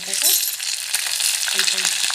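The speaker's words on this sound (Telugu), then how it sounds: "ఇందులో ఇప్పుడు ఆనియన్స్ వేద్దాం" Onions sizzle and crackle steadily in hot oil over tempering spices, a close, busy hiss with occasional clinks and stirring, and a brief tonal background sound.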